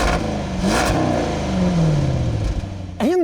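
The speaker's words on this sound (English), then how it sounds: "Take a listen to a little rev." A Land Rover Defender 90 V8 revs through its quad exhaust, a rising then falling engine sweep followed by a sharp second blip near the end, loud and close with no talking.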